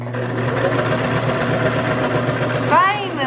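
A sewing machine hums steadily nearby, its motor drone continuous throughout, with a faint rising whine near the end.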